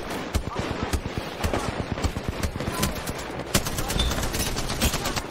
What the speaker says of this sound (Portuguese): Errando muito tiro.